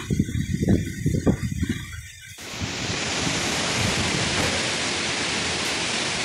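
A typhoon storm lashes a seaside cottage area in Hong Kong with heavy rain and wind, a loud, uniform roar that takes over after a few seconds of gusty buffeting.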